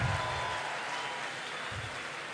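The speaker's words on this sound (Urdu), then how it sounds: "شاہ صاحب کے لیے بہت بھرپور تالیاں جناب۔" An audience claps for Shah Sahib at a speaking event in Quetta, Balochistan, a broad, sustained round of applause that stays fairly even and slowly tapers, with low thumps underneath.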